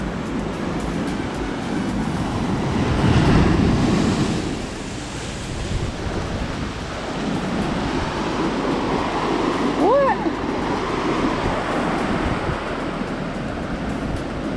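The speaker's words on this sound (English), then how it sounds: "These waves right now." Ocean waves surge and wash onto a Hawaii beach in broad, rolling swells under steady wind noise, with a brief whistle-like tone partway through.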